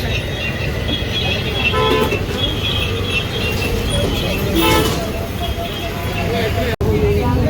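Car horns toot repeatedly amid the busy traffic of the Manor bazaar market. Someone talks over the steady crowd and engine din.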